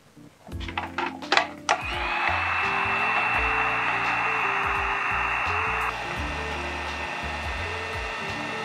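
A heat gun blows hot air onto a plastic lacrosse head in a steady, loud whir that runs for several seconds, with a slight drop in tone partway through and a few clatters and knocks just before it starts.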